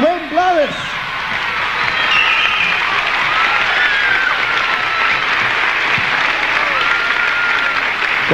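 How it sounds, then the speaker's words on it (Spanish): Large concert crowd in Caracas applauding and cheering loudly and steadily for a singer at a 1980 salsa show, a dense wash of clapping with whoops, following a brief announcer's voice at the start. "Yo quiero que ustedes me lo reciban con ese fuerte aplauso"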